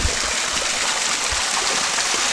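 A small waterfall stream pours steadily outdoors, a constant broadband rush of flowing water that stays even and fairly loud for the whole stretch, with no voices over it.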